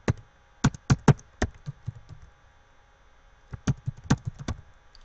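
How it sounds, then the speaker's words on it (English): Clicky keystrokes on a computer keyboard, two short clusters of sharp, close taps in quick uneven bursts separated by a silent pause, no talking. "Alright, let me type it in again."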